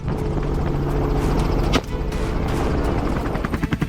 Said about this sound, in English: The helicopter kept circling, scanning the land for any trace of the prey.